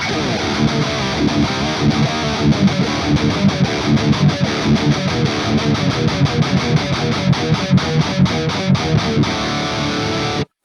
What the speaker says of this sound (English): a well-balanced metal tone is around this area